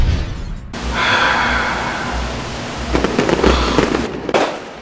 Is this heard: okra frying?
no